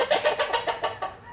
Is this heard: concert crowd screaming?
no